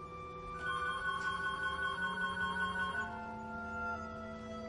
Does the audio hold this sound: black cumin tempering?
no